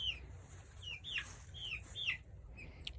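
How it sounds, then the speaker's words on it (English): Brahma and Orpington chicks chirp and peep in a series of short, high calls at moderate distance, several overlapping over a low, steady background hum. "I just wanted to give you a quick update on how our chicks are doing."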